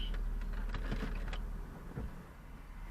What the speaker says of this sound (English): I'm going to put the window down, see if I can smell it.